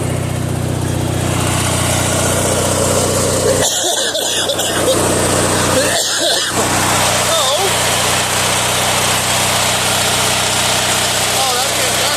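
A 1997 MTD Yard Machines riding lawnmower with a 13.5 hp Briggs & Stratton industrial commercial engine with cast iron valves idles steadily and loudly, close by, with a brief cough-like interruption and some talk.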